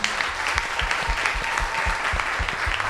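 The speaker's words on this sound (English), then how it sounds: "Give everybody from Talk Up Yout a round of applause" An audience claps a round of applause at a youth community event, steady dense clapping with a few sharper individual claps standing out, continuous throughout.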